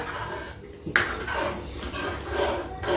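A spoon stirs and scrapes through chickpea-greens curry with dried fenugreek leaves in a metal pan, giving several close clattering, scraping strokes with no voices.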